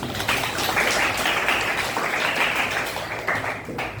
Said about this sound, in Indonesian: Jadi tepuk tangan dulu dong buat Reza.